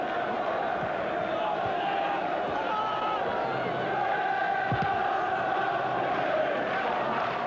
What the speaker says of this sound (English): Manchester United fans at that end rise to applaud